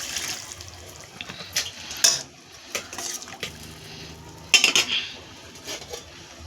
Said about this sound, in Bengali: জল দিয়ে দেবো সামান্য।